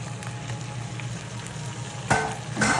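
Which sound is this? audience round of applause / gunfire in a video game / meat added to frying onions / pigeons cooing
meat added to frying onions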